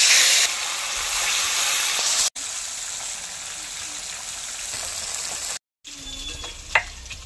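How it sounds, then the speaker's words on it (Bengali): Katla fish fries in hot, smoking oil with a loud, close hiss and sizzle, broken by two brief cutouts, then quieter crackling with a sharp clink near the end. "এবার একে একে মাছগুলি ভেজে নেব।"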